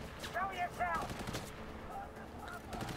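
Gunfire from weapons in the video game Cyberpunk 2077, a few quick bursts of shots mixed with game voices and effects, fairly loud up close.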